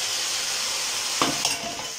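Spices are stir-fried in a hot pan for kabsa, giving a steady bright sizzle with a couple of brief scraping stirs near the end, close and fairly soft, with no voices.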